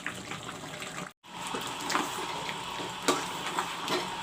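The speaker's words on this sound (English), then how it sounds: "the mutton is getting fried along with the masala" Mutton and masala fry in a pan with a steady, close sizzle and soft stirring scrapes, broken by a brief silent gap early on.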